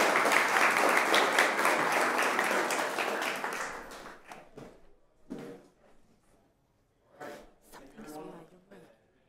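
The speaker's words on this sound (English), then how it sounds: "Big round of applause." A crowd applauds loudly for several seconds at a fintech startup competition finale, the clapping fading out, followed by a few scattered handling noises and brief speech.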